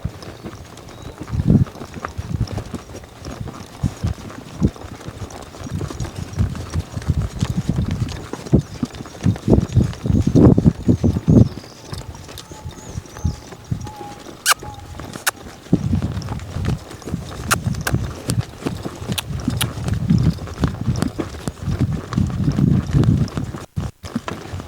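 A hesitant young colt follows another horse during colt starting, hooves clip-clopping on the ground in uneven bursts of trotting and walking, fairly close, with occasional quiet speech.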